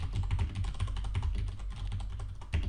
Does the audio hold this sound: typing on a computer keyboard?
yes